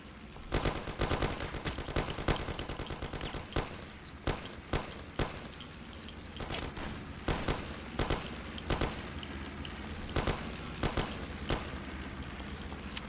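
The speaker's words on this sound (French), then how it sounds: "Je me fais tirer dessus." Dense gunfire in the video game Mafia, with repeated loud shots and bursts of automatic fire ringing out steadily over continuous background game noise for the whole stretch.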